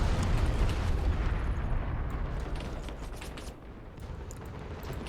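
Aftermath of a tank being blown up in the strategy game Call to Arms, Apocalypse 2066 mode: a loud, rumbling explosion roar that slowly decays over about five seconds, with scattered crackling debris and no voices.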